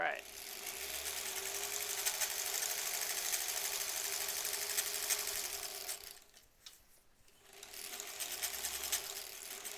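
Sewing machine stitching fabric face masks, a rapid steady mechanical clatter running continuously, pausing briefly for a couple of seconds before resuming, with faint talk at moments.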